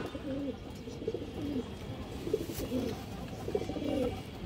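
A pigeon coos softly and repeatedly, several low, throaty coos in a slow rhythm, fairly close with a faint background hum.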